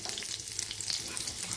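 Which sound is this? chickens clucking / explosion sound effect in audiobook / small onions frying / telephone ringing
small onions frying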